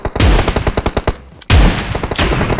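Shotgun blasts in PUBG Mobile: a burst of rapid gunfire followed by a brief pause and another loud blast with ringing tail, close and punchy, no talking.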